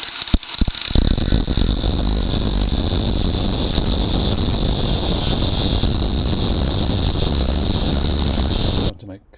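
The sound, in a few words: angle grinder cutting BMW R1200GS suspension strut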